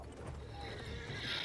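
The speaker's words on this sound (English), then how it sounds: "I'm riding a horse." Horse in the Battlefield 1 video game, neighing while galloping: a brief whinny over a steady rumble of hooves and game noise, continuous and moderately loud.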